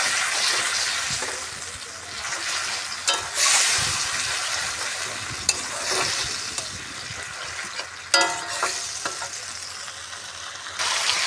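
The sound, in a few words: sautéing curry with a little water in a pan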